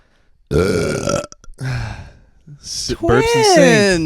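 A loud, close burp rips out alone, followed by a second drawn-out belching sound, among young adults hanging out on a casual podcast recording.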